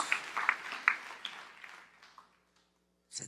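A church congregation's applause at a sermon trails off, dense clapping thinning and fading over about two seconds before near silence and a brief final burst.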